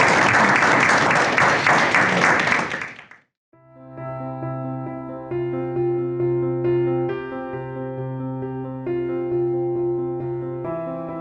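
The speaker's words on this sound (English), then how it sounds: "please give them a round of applause for sharing" Wedding audience clapping loudly for about three seconds, then cutting off abruptly as steady music with sustained tones takes over for the rest.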